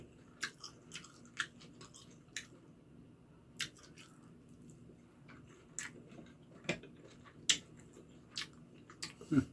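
Someone chews large Korean dumplings up close, giving soft, wet squishy bites and sharper clicks spaced irregularly over a quiet background, with no talking.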